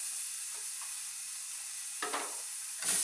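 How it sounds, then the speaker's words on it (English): Fish goes into a hot pan and sizzles with a steady, bright hiss. A couple of scraping stirs break in near the end, and there is no talking. "Time to throw my fish in the pan."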